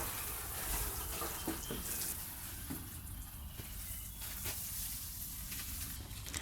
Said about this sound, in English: The soil was quite dry, so I started by watering the bed.